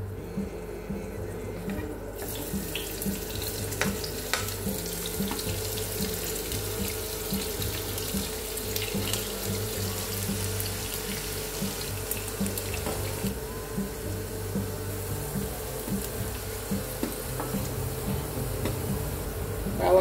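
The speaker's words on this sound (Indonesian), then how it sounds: "Mulanya kita menggoreng bawangnya duluan." Chopped onions fry in hot oil in a home kitchen, a steady, fairly loud sizzle and crackle running unbroken for about twenty seconds with no one talking.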